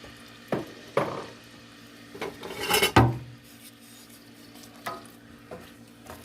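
Onion and celery cooking in a third of a cup of butter in a pot, with scattered stirring scrapes and a few louder utensil knocks over a soft, steady sizzle, close by.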